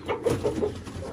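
A few close chickens give short, quick clucks in a rapid burst of about four calls within a second, fairly loud and without talking.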